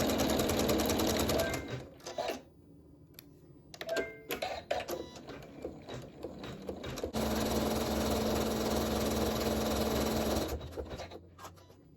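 An embroidery sewing machine works decorative stitches in red thread, running in loud sustained bursts broken by quieter gaps with small clicks and handling noises, and no speech.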